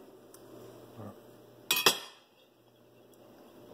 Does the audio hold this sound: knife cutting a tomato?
yes